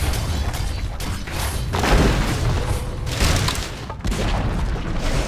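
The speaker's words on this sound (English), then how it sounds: "Dire's bottom tower has fallen." A Dota 2 tower collapses in a sustained roar of heavy booms, crumbling thuds and mechanical crashes, loud and continuous, with a few sharp breaks between the impacts.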